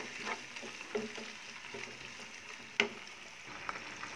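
Onions and raw prawns frying together in a pan while being stirred for a ridge gourd prawn curry: a faint, steady sizzle with occasional soft scrapes and one sharper clack of the spoon against the pan.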